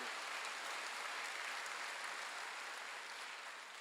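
A church congregation applauding during a Sunday worship service, a steady dense wash of clapping from many hands that fades slightly toward the end, heard at moderate distance and fairly quiet.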